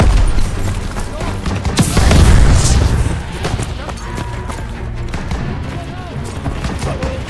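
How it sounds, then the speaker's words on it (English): A grenade blast in Call of Duty WWII, set in France in June 1944: a loud, heavy boom swells and rumbles out amid ongoing rattling gunfire, with voices shouting over the battle. "Lob it a grenade!"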